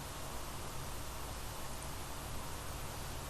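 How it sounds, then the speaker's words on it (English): A flat, steady hiss of white noise from a noise generator fills the whole clip at an even level, broadband and unchanging, with no other sounds. "what I have right here is a white noise generator"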